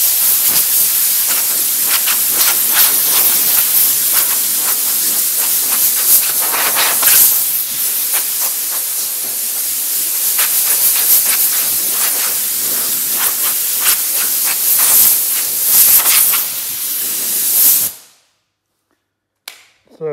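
Compressed air blowing down car bodywork during paint prep, a loud, close hiss with bursts and pulses that runs for most of the clip before cutting off abruptly near the end.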